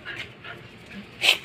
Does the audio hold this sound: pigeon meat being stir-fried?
no